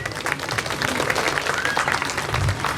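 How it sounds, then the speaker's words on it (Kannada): Audience applause at a Seemantha baby-shower ceremony, a dense, steady wash of many hands clapping together, loud and sustained throughout with no break. "ಅದಕ್ಕೆ ಎಲ್ಲರೂ ಒಂದ್ಸಲ ಜೋರಾದ ಚಪ್ಪಾಳೆ ಹೊಡಿರಿ."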